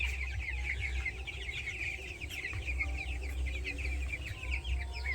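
Farm-raised chicks on a wood-shavings floor chirp continuously in a dense, overlapping chorus, with a low steady hum underneath.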